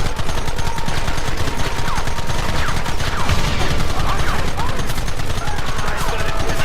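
Dense, continuous gunfire from many weapons in the Western game Red Dead Redemption, loud and close, with rapid overlapping shots and bursts throughout and no pause.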